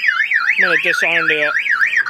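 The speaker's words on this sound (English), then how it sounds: "the alarm will fire off" A Dodge car alarm wails in a fast rising-and-falling siren pattern, loud and close, with a brief spoken phrase partway through.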